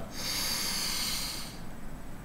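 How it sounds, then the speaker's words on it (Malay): A sharp intake of breath through the nose, a steady hissing sniff lasting about a second and a half, close and fairly loud with no speech. "apabila kita tarik nafas"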